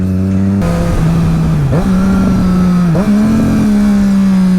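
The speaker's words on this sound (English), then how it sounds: "Holding the clutch, giving it a bit of revs, smoothly into second, smoothly into first." A motorcycle engine revs steadily with the clutch held, its pitch dipping twice as the gears shift down into second, then first, loud and close with no talking.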